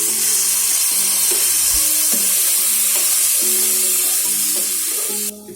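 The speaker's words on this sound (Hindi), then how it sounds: "दूध खुश्क होने तक अब हम चमचा हिलाएंगे।" Pumpkin halwa with milk is stirred in a pan, a loud continuous sizzle broken by repeated scraping spoon strokes against the metal, close and without talk.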